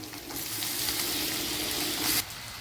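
Chicken pieces dropped into a hot pan of oil with ginger-garlic, asafoetida and turmeric for a chicken curry, sending up a loud, steady sizzle that holds for about two seconds before cutting off sharply.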